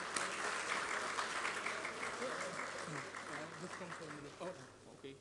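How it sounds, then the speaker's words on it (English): Audience at a talk applauds a speaker called to the dais, steady clapping that slowly fades, with voices murmuring underneath. "Please give a round of applause to Cresencio."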